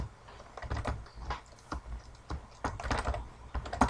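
A computer keyboard clatters during a Minecraft session, with irregular bursts of keystrokes and some louder key thumps close to the microphone, and no voice.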